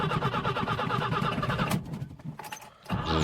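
A car engine cranks and starts in the village-life video game My Village Life, a loud rough mechanical churn that cuts out abruptly, followed by a few sputtering bursts.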